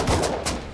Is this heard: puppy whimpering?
no